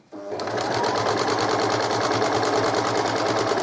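A sewing machine stitches a double-sided baby blanket, starting after a brief hush and then running at a fast, even, rhythmic whir, loud and close throughout.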